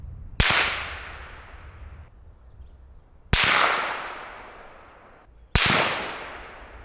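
Three sharp, loud rifle shots, muffled by AB Raptor 8 and CGS Hyperion K suppressors, one with a 2-inch reflex, spaced a few seconds apart, each with a short fading echo.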